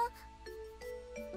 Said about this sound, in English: Hearing the bell chime, Fushibayashi begins to become flustered